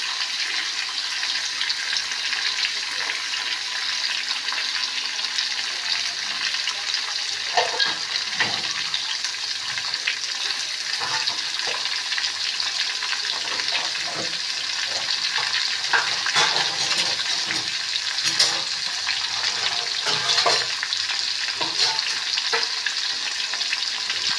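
Green chili and tomato sizzle and spit in a hot pan while being stirred, a steady loud frying hiss with scraping stir strokes throughout, no talk.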